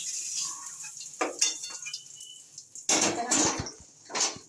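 A lid lifted off a cooking pot where oil is heating, giving a couple of metallic clanks and scrapes between quieter stretches, with faint sizzling and kitchen clatter close by.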